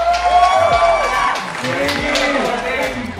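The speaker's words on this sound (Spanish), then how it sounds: "te tenemos que dar un fuerte aplauso" A crowd claps, cheers and whoops loudly all at once, with excited voices shouting through the applause.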